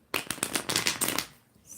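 Tarot cards are shuffled in the hands during a live reading, a quick run of crisp riffling snaps and flutters, close and fairly loud, then tapering off.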